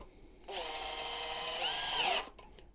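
Power drill driving a screw into wood while a workbench is being built: a steady high whine for about a second and a half that rises slightly in pitch near the end, then stops abruptly, with no talk.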